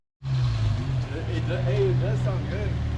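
A 4th-gen Acura TL with an aftermarket exhaust starts and idles with a loud, steady low rumble close by, while someone talks over it.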